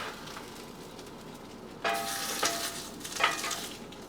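Eggs frying in a pan for breakfast, a quiet low background that bursts into loud sizzling as they hit the hot surface, crackling in several swells with no talk.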